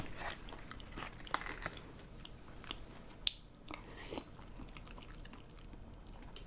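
Someone eats Korean steamed egg, with quiet close chewing, soft bites and a few light clicks of utensils over a faint background.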